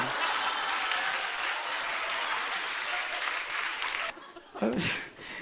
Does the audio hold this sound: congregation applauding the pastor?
yes